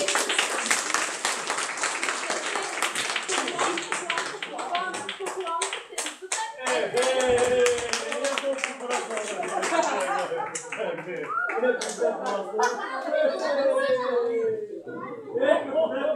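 Lively clapping from an audience at a stage show, loud and rhythmic at first, then thinning into scattered claps under children and adults chattering and calling out.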